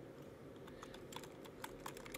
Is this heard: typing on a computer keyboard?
yes